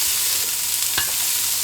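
Onion and carrot sizzling in hot oil in a pot, a steady close hiss with one brief stirring scrape partway through.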